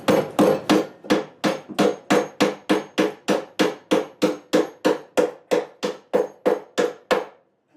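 Steady rapid series of sharp impacts from driving big staples while wiring cellar light fixtures, about two per second, close and loud, each ringing briefly before the next strike.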